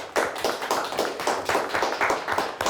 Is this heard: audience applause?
yes